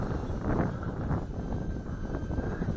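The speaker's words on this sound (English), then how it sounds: "Hear the wind picking up in the trees?" Wind gusts rush through trees outdoors in a steady, moderate broadband roar that swells and eases, with no voices.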